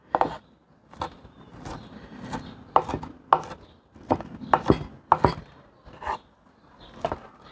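A knife mincing garlic finer on a cutting board while making Argentine chimichurri: repeated crisp chops in loose bursts, close and fairly loud, with no voices.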